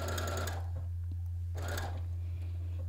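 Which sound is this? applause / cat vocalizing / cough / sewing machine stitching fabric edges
sewing machine stitching fabric edges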